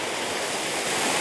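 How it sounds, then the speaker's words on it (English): Steady, hissing rush of water pouring down a three-tier waterfall, a broad continuous roar heard close and alone with no voices. "Yeah, we've got a 3-tier waterfall."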